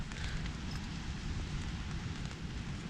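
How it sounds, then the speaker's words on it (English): Light rain beginning to spatter on a Eurohike Tamar 2 tent during a wet, windy solo wild camp, a dense soft crackle of scattered drops over a low wind rumble, steady throughout. "That's the first drops of rain hitting the tent."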